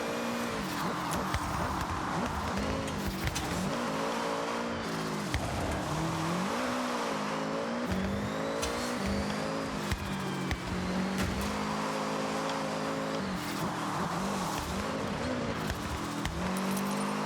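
A 600 HP Honda City weighing 600 kg in the racing game Forza Horizon, its engine roaring and revving steadily with rising and falling pitch and occasional tire squeal, loud and unbroken throughout.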